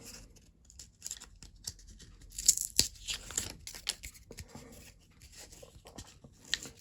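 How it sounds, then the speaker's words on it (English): Packs of HeroQuest expansion game cards being ripped open by hand: close, irregular tearing and crinkling of wrapping, with sharp rips and rustles scattered through a quiet room. "Just going to rip these cards open quick."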